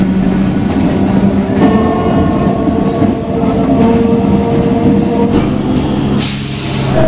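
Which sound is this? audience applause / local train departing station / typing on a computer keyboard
local train departing station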